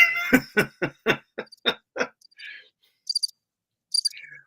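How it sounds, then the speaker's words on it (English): Crickets chirp in two short high-pitched bursts after a run of sharp broadband thumps, fairly clear against an otherwise quiet background. "wow, crickets"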